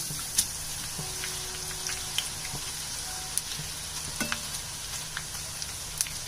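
Omapodi strands fry in hot oil with a steady, dense sizzle and crackle throughout. A few soft clicks and taps come as the batch is turned over in the pan, and there is no talking.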